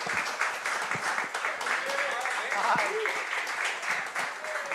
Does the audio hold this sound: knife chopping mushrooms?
no